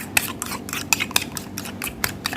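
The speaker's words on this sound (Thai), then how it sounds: "ตีไข่ให้ละเอียดเหมือนเราตีไข่เจียวกันเลยนะคะ" Eggs being beaten finely in a bowl, quick clinking strikes of a utensil against the bowl in an uneven rhythm, close and clear, with no talk.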